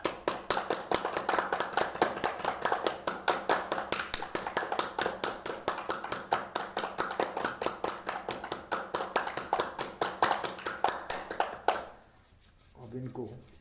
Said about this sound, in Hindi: ये सारी हम ताली बजा करके बहुत सारी नसों को एक्टिवेट कर सकते हैं